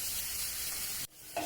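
Onions and green chillies sautéing in a pan give a steady, close sizzle with stirring, broken near the end by a short pause and a small clatter.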